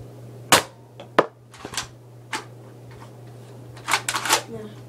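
A toy gun is cocked and fired, producing a few sharp, close snapping clicks and mechanical rattles at irregular intervals, with a cluster of quick snaps near the end over a low steady hum.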